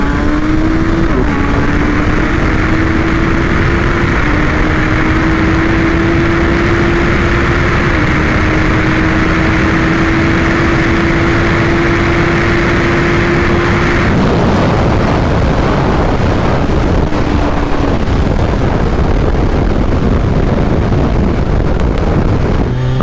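Stock 2022 Kawasaki Z1000SX motorcycle accelerating hard from a second-gear start, engine pitch climbing steadily through several upshifts before backing off, loud and continuous under heavy wind buffeting.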